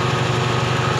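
A Toyota small-body 16-valve engine idles smoothly and steadily up close, a low even hum with a faint rhythmic pulse running throughout, no voices over it.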